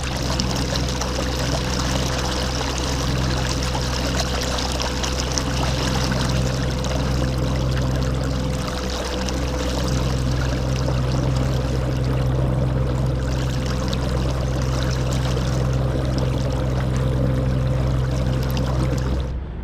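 Haswing electric kayak motor running at full throttle in shallow water, its steady hum mixed with continuous splashing and rushing water close by, unbroken for the whole stretch.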